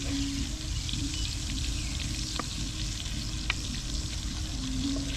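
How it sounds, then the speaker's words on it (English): Onions sauté in a Dutch oven with a constant, close hiss and sizzle, broken by a few sharp pops. "I'm going to saute my onions."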